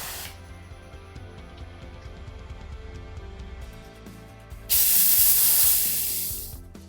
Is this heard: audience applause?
no